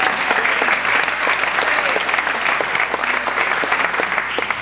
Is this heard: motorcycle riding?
no